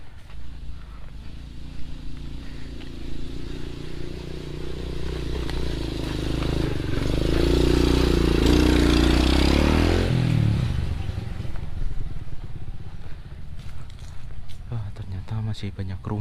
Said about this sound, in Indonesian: terdengar ada suara motor di bawah baraya